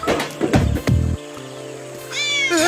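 A cat meows in an action movie scene, with several quick, loud, close meows at the start, then near silence, then a rising, drawn-out wail at the end.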